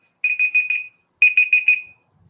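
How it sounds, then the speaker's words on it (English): A countdown timer alarm sounds at the end of a trivia round: two loud, clean bursts of four rapid electronic beeps each, separated by a short pause. "Beep, beep, beep."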